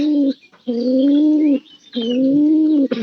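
Giribaz cross pigeons coo in close, loud, drawn-out calls, two long phrases separated by short pauses, with faint chirps in the background.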